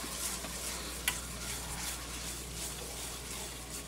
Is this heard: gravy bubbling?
yes